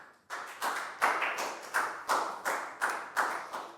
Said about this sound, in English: And a big round of applause for everyone doing a great job.